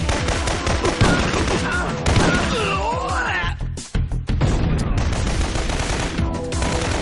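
Dense, loud video-game combat with repeated heavy blasts from powerful grenades, mixed with rapid gunfire and crashing impacts, a brief drop near the middle before the barrage resumes.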